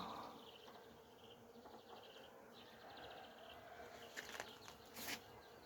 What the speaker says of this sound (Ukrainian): Бджоли гудуть.